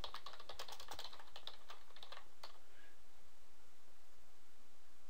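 Fingers tap a computer keyboard in a quick burst of close clicks for about two and a half seconds, then a faint hum remains.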